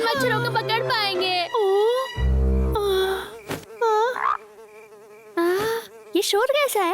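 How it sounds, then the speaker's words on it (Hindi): Cartoon mosquitoes buzz in high, wavering whines that rise and fall through the scene, loud and close, mixed with a childlike cartoon bear voice and brief effects. "बड़े, छोटे, मुझे नहीं लगता हम इन मच्छरों को पकड़ पाएंगे।"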